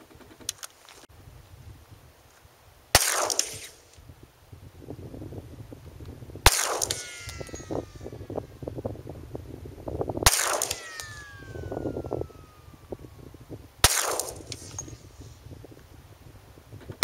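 Four loud gunshots from a Glock 20 pistol firing 10mm ammunition, spaced several seconds apart, each sharp crack followed by ringing echo, with quieter outdoor noise in between.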